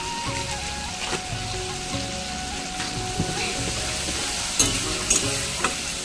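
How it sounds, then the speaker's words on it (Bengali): Spices sizzle in hot oil for a vegetarian elephant foot yam curry, a steady close frying crackle with occasional scraping stirs and soft clinks of the spoon throughout. "আমি কষিয়ে নেব যতক্ষণ না গা থেকে তেলটা ছাড়ে।"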